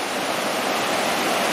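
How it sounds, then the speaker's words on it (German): The powerful Soča river in Slovenia rushes in a loud, steady roar of churning water, close and unbroken, with no voices. "Die Sotscha, so unglaublich gewaltig, das ist ein echter Fluss"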